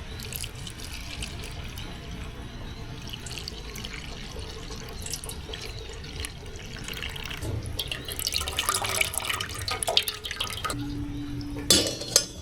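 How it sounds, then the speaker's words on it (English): Clam juice strains through cheesecloth, giving faint, irregular drips and trickles of liquid, with a few louder splashes near the end. "Now we're gonna run this right here through a cheesecloth just to make sure no shell, no debris, and we just have only the clam juice."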